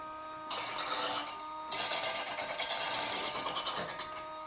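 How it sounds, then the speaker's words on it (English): A rolling magnetic knife sharpener spun along a blade gives off two bursts of bright, close rasping scrapes, with rhythmic back-and-forth strokes in the second, longer burst. "you're going to be able to spin and roll this on your blade like that to sharpen it"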